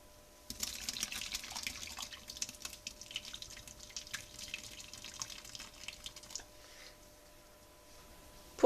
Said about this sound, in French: je vais venir verser la deuxième préparation